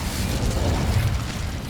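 Incendio fire spell cast in the video game Hogwarts Legacy, a dense roaring burst of flame with crackling, rumbling texture, loud and sustained for under two seconds.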